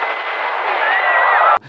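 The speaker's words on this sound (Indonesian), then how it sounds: "setelah turbin gedung tersebut meledak" Explosion of a skyscraper's turbine in an action film: a loud, dense roaring burst sustained for about a second and a half, then cutting off abruptly into near silence.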